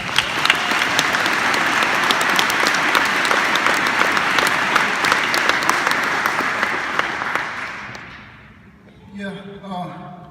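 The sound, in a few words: applause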